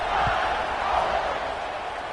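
A stadium crowd buzzes in a college football video game, a dense, even roar of many voices holding steady at a fairly loud level across the short stretch.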